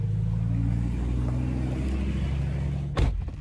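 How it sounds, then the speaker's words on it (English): A Chevrolet Tahoe idles and rolls at low speed into a garage, giving a steady, close engine drone with a brief sharp thump near the end. "I'm gonna go put the Tahoe in the garage"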